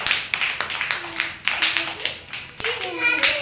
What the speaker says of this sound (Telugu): క్లాప్స్ కొట్టండి సాన్వికి